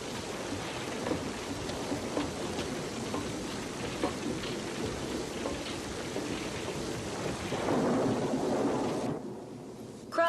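Steady, heavy rain pours down in a dense hiss, building slightly toward the end before abruptly cutting off.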